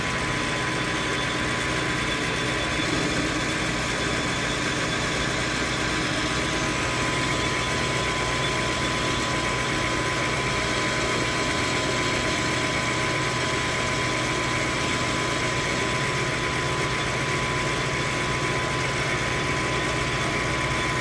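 A metal lathe takes a shallow turning pass of about a thirty-second of an inch while centering the body of a marking gauge, giving a steady, loud, unbroken machine hum throughout.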